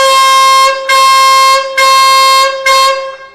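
A Wolo compressor air horn blasts four times, loud and close, each blast a long, brassy, strongly tonal note separated by short gaps, with the last one cut shorter.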